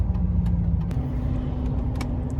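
A 2004 Chevrolet Silverado with the 6.0 V8 and re-geared axle cruises along, its engine and road noise a steady, loud drone with a slight pitch shift, heard from inside the cab without talk.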